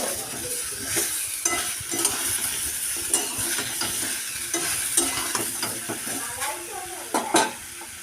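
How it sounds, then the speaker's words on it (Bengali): Vegetables frying in oil in a pan while being stirred: a steady close sizzle with frequent scraping and clattering strokes of a spatula against the pan, continuing throughout without talking. "ভালো করে সবজিগুলো ভেজে নিলাম"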